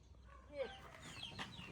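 Chickens cluck and squawk in short, scattered calls at a rice field farm, fairly faint and close, with a rustling background.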